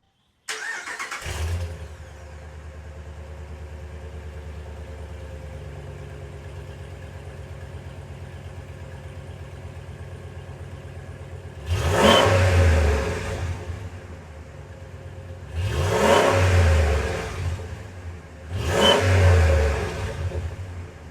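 A 2016 car fitted with a new, quieter aftermarket exhaust cranks and starts into a steady idle, then revs sharply three times, each rise loud and close before settling back to idle.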